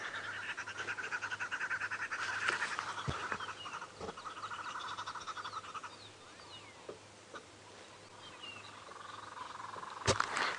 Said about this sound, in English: Some other birds calling around here too. Sounds like the green wood hoopers.